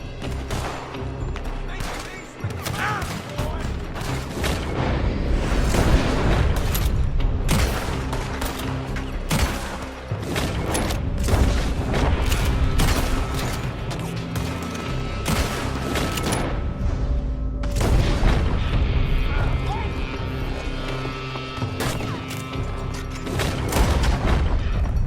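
Gunfire in a Red Dead Redemption 2 shootout, loud repeated shots and booming blasts cracking over a busy continuous din, with voices shouting amid the firing.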